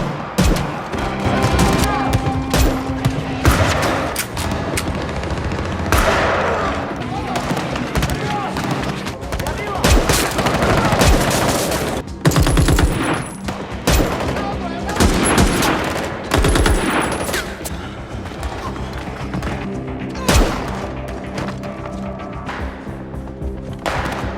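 Loud, dense bursts of gunfire and explosive blasts fill an action film battle scene, with rapid automatic volleys and heavy impacts that continue throughout and a voice shouting briefly amid the fighting.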